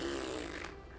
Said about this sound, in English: He's farting blood